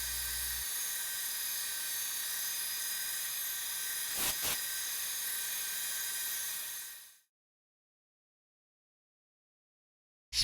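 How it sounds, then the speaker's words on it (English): A steady high-pitched whine of a belt grinder with a 1000 grit belt, finishing a sword blade, runs loud and constant for several seconds, then cuts off abruptly into silence. "Some final touch-ups on the 1000 grit belt."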